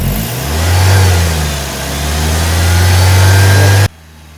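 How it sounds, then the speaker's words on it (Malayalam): A used Maruti Ritz petrol car engine is revved hard, its note swelling, dipping and climbing again in loud, close surges before cutting off abruptly near the end. "ഒന്ന് റേസ് ചെയ്യാം"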